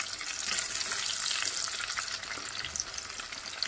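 Onions sizzle and crackle steadily in hot oil, a dense continuous frying hiss with faint stirring, no talking.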